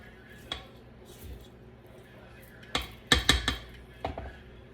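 Cranberry-walnut snowball cookie dough is mixed in a bowl, heard as scattered clinks and knocks of a utensil against the bowl, clustered into a quick burst of strokes midway, close by.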